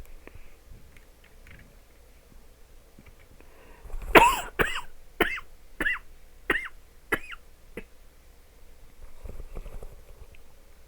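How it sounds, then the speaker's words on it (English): A person coughs in a quick, forceful burst of about six close coughs in a row, then goes quiet, with only faint background noise before and after. "I had a bit of a coughing spree for a moment there."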